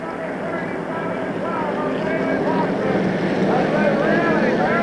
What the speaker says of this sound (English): Hutchins trying to catch up to the Ron Klein automobile.